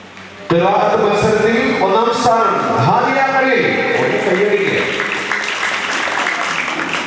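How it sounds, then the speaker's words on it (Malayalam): An audience at a mosque community gathering claps for the first-place winner of a Quran recitation contest. The applause is sustained and fairly loud for several seconds, with an announcer's voice talking over it throughout. "കൈയടിക്കുക"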